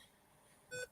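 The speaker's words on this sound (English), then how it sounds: "Can you guys hear a beeping noise?" A single short electronic beep from a laptop charger sounds faintly and briefly, a thin high tone ringing over a quiet background near the end.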